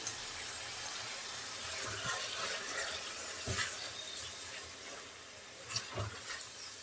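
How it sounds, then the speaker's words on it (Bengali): Water is poured into a cooking pan holding dried loitta fish, bean seeds and frozen tomato slices, a steady close splashing and trickling pour with a few soft knocks, alone without talk. "সামান্য একটু পানি দিয়ে দিলাম"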